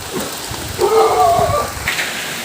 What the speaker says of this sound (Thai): บรรยากาศฝนตกครับผม